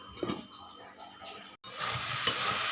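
Mixed vegetables are stirred in a pan, with a few soft scraping strokes, then a steady, fairly quiet sizzle of frying after a brief break.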